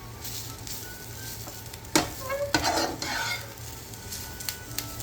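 Tamarind and curry leaves stirred in a hot pan for homemade chammanthi podi, a spoon scraping and scooping through a soft crackling sizzle, close-up, with a few sharper stirring strokes and no talk.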